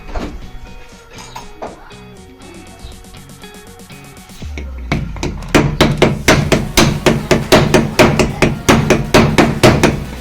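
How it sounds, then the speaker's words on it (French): Hammer blows on a Lambretta 125 LD scooter engine during reassembly, a few scattered knocks at first, then a fast steady series of loud metallic strikes dominating the second half. "Je vais prendre ça, un marteau."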